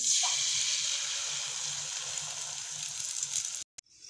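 Beaten egg frying in hot oil in a pan for a sweet egg dish, a steady close hiss and sizzle that slowly eases before cutting off abruptly near the end.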